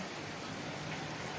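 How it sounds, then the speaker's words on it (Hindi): Heavy rain pours down in a steady, dense hiss that stays even and close throughout, with no voices or other sounds over it. "बहुत तेज बारिश है"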